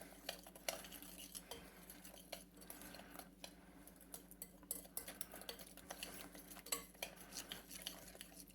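A spoon stirs sherry trifle ingredients in a bowl, with steady scraping and clinking of utensil against the dish running throughout, moderately close and without speech.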